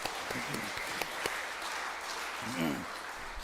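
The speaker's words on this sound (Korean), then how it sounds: "우리 이태호 선교사 위해서 박수" A congregation applauds during a Sunday worship service at a Methodist church, honouring a missionary who stands before them. The clapping forms a steady, dense wash throughout, with a few sharper claps and a brief voice near the end.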